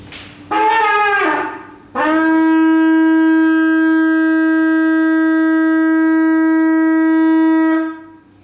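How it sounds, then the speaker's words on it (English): A long, loud shofar blast held steady for several seconds, preceded by a shorter wavering blast that bends in pitch; no voices. "they use a shofar, it's the same sound."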